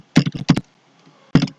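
Numbers typed on a computer keyboard, two quick bursts of close, crisp key clicks separated by a brief pause.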